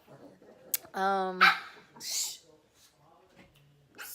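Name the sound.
dog barking in the background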